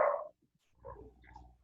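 A small dog gives a brief bark, then a few softer growly yips follow after a short pause; faint and fairly distant in a quiet room during an online class call.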